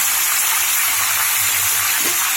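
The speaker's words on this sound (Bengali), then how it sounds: "ভালো করে আমি ভাজা ভাজা করে নিই" Brinjal, potato and papaya pieces seasoned with salt and turmeric fry in a pan, giving a loud, continuous, close-up hiss that holds steady throughout with no one speaking.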